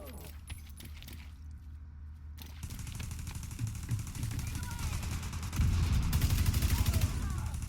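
Rattling bursts of gunfire in the video game The Division 2, growing denser and louder toward the end, mixed with a voice talking throughout.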